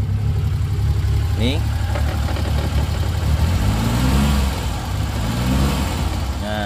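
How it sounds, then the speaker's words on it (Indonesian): A 1989 Daihatsu Zebra 1000 engine idles steadily and close by, a low even drone running throughout with a brief sharp click near the start and people talking over it. "Nah, untuk mesin mobilnya suaranya seperti ini teman-teman."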